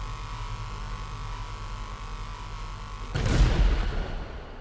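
A Khanjali tank cannon in GTA 5 fires a single deep boom over a steady engine hum, with a rumbling tail after the shot.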